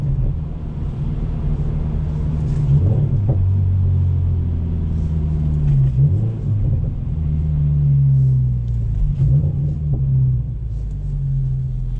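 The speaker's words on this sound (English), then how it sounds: "every gear it was popping on downshifts, which is a really cool touch" A Subaru BRZ / Toyota GR86 boxer engine with a muffler delete rumbles deeply while downshifting on a highway exit, with three rising rev blips followed by short exhaust crackles.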